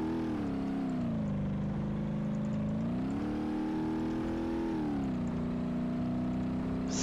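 A loud Shelby GT500 engine in the BeamNG Drive driving game drones continuously at high revs, its pitch rising and falling as it shifts and accelerates, alone without talk.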